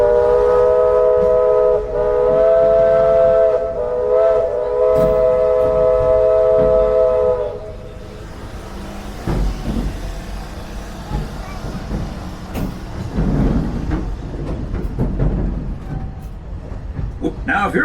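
Walt Disney World Railroad steam train sounding a long multi-tone whistle, then rolling along the rails with rumbling, clanking wheel noise and scattered knocks, heard from on board.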